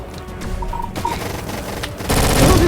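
Gunfire in a video game arena fight, a loud burst of rapid automatic shots rising into a dense, roaring volley near the end, with no talk.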